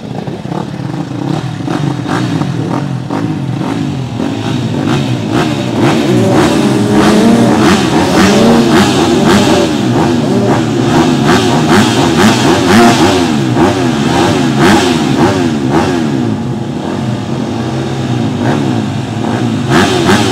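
Motocross motorcycles revving together at a race start practice on an SM Motocross track in Alavus, a loud, continuous snarl of engines rising and falling for about twenty seconds with clattering mechanical texture and no speech.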